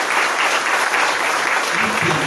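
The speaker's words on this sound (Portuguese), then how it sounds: "Dá uma salva de palmas." At a hospital launch event, the audience bursts into a loud, dense round of applause that runs unbroken throughout. A faint voice comes in near the end.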